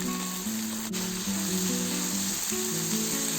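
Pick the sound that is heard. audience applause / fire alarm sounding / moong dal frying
moong dal frying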